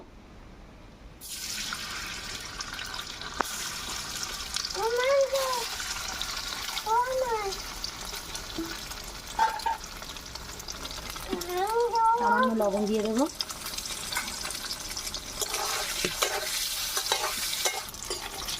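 Cut paneer cubes frying in hot oil in a wok, a steady sizzle and bubbling throughout with occasional spatula stirring, while someone speaks briefly over it.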